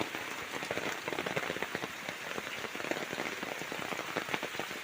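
Rain falls steadily on surfaces in a village, a dense, even patter of many drops close by with no talking.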